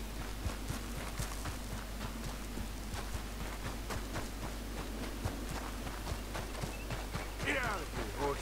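Horse hooves clip-clop at a walking pace in the Red Dead Redemption 2 video game, a steady run of soft, evenly spaced thuds over a low background hum.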